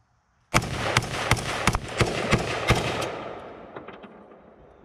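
Several rapid shots from a Bear Creek Arsenal .223 Wylde AR-15 crack loudly in quick succession, about five, each ringing out with a long outdoor echo that trails away.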